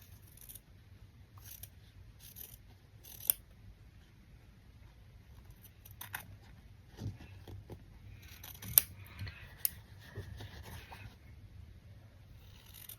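Scissors snipping a wobbly line through fabric or paper, several short quiet cuts scattered through a hushed room, with no talk.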